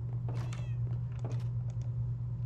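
Cat meows inside a farming-style video game playthrough, a few short high mewing calls over a steady low game hum, close and clear with no talk.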